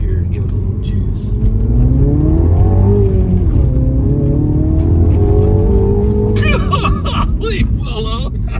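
A 2016 Mini Cooper John Cooper Works with a six-speed manual accelerates hard, its engine note rising steadily and loud throughout, with excited voices breaking in near the end.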